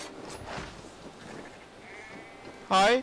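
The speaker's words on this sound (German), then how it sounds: "Schafe." Sheep in Assassin's Creed Valhalla give one loud, close bleat near the end, after faint game ambience and a quieter bleat earlier.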